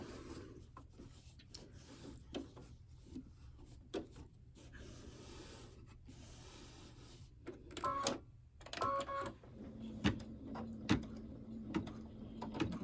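An embroidery machine stitching down the ear of an in-the-hoop cat quilt block, giving a steady faint mechanical hum with clicks and taps that grow busier and louder toward the end, with no talking.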